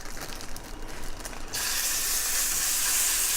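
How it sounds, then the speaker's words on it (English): Bulgogi meat hitting a very hot oiled frying pan, with a steady loud sizzle and hiss that bursts in suddenly about halfway through and continues unbroken, alone and with no talk. "So the meat is sizzling really nice."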